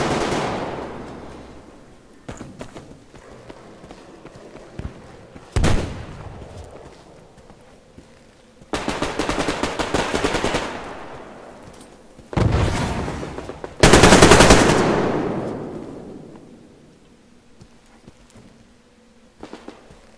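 Gunfire in the PvP shooter Survarium rings out in several separate loud bursts of automatic fire, some sharp and close, broken up by quieter stretches with faint background sound.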